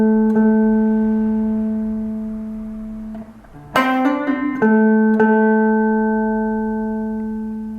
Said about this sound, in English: A bit slower, you hammer on, pull off